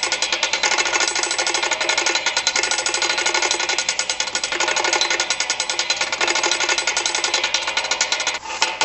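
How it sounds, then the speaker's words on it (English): The winch on a 2012 4500 boat hoist winds up its cable with a loud, continuous mechanical grinding and rattling that pulses in a fast, steady rhythm close to the microphone. "we've got the winch pretty much all wound up"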